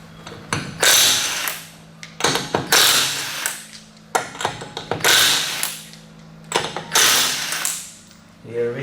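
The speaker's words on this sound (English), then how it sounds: "we will be removing these 4 lug nuts" A 21mm socket wrench works the lug nuts off a Toyota Corolla wheel, producing repeated loud bursts of metallic ratcheting and scraping in a steady rhythm, close by and with little else around.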